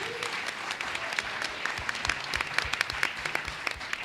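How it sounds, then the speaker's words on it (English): Audience at a school board meeting gives a round of applause for building leaders, a continuous, fairly loud patter of many hands clapping with some distinct individual claps, steady throughout with no talk. "If we can give them a big loud round of applause."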